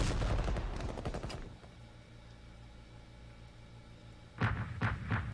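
Rapid volleys of artillery fire in the World War One strategy game Strategic Command WW1 crackle loudly in a dense burst, fade to a low rumble and erupt again near the end, with no speech.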